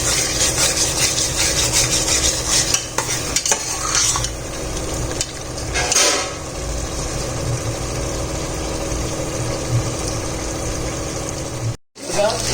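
Masala for chicken biryani frying and being stirred in a pan, a steady close sizzle with scraping spoon strokes and a sharper burst partway through, continuous throughout.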